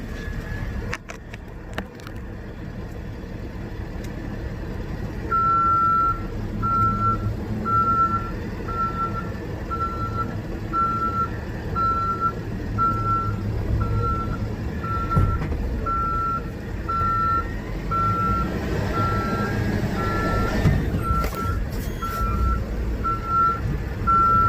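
Steady evenly spaced reversing beeps ring out over a rumbling truck engine as it backs up to a trailer, continuing for most of the stretch with a few knocks and clanks near the end.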